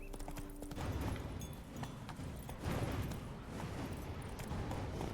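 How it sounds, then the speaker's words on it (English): A horse's hooves clip-clop steadily in The Witcher 3 as the rider travels, a continuous rhythmic clatter over faint background ambience. "Move, horse, move!"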